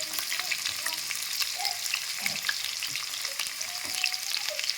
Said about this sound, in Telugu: ఆ స్పూన్ అయితే జీలకర్ర అయితే వేసుకున్నాను ఉల్లిగడ్డలు అయితే పచ్చిమిరపకాయలు మగ్గినానంటే